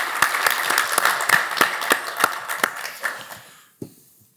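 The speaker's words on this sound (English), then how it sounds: "Round of applause for Laurent." A modest conference audience gives a round of applause, with distinct individual claps audible in an uneven patter that tapers off after about three and a half seconds, followed by one last stray clap.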